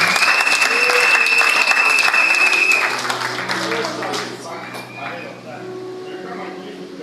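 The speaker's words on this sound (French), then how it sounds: "Give a clap." A church congregation claps and applauds in a large room, a loud, dense wash of clapping at first that fades to a quieter patter while music notes linger in the background.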